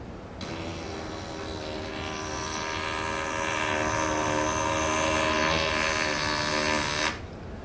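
Lips buzzing into a didgeridoo mouthpiece produce a steady, loud, rich droning tone with many overtones, held for about seven seconds and then cut off abruptly.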